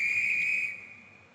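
A train guard blows a single sustained, shrill whistle on the platform as the signal for the doors to close, loud and steady before fading out.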